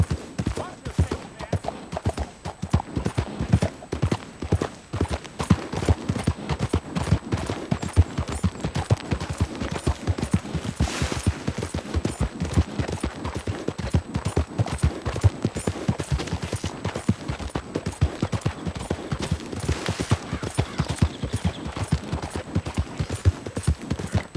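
Horse hooves clip-clop steadily through a Red Dead Redemption 2 game scene, a continuous close rhythmic patter running the whole stretch, with scattered gunfire-like bursts and a voice talking at points.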